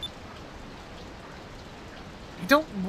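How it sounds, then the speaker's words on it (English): Steady, soft rain falls in Skies of Arcadia Legends, a continuous even hiss throughout. A brief voice-like tone cuts in near the end. "it's been raining all day"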